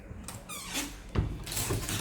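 A bedroom cabinet door swings open with a few short, high squeaks and creaks, close up and fairly quiet, with no talking.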